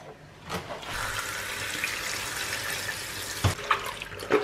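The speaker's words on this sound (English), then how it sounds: "And then I'm going to wash the lettuce." Running water washes lettuce under a tap, a steady soft rush with a few brief splashes and drips near the end, heard fairly quietly.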